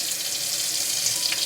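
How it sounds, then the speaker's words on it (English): A faucet pours water in a steady, close hiss while a dog is being washed at home, continuous and unbroken until an abrupt cut at the end. "Every single time I wash Kaya, without fail, I get soaking wet"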